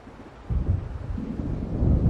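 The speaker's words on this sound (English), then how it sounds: "It seems there's a storm coming." Thunder from an approaching storm in the video game Alan Wake, a loud, deep rolling rumble that swells after a moment and keeps growling, with wind-like noise behind it.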